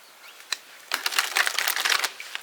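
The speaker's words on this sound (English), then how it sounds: "let's shuffle some more cards" A deck of tarot cards being shuffled close up: a couple of isolated card snaps, then a dense rapid riffle of crisp flutters lasting about a second, with no speech over it.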